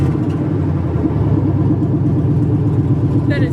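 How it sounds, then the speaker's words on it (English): A car with an LS engine swap rumbles loud and close, its deep uneven exhaust burble rising slightly as it is revved, with people talking over it. "Give it a little rev if you want."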